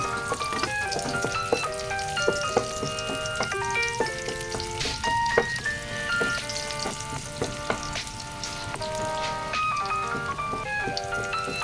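Garlic sizzling and frying in a pan, a steady crackling hiss with small pops throughout, close and continuous beneath background music.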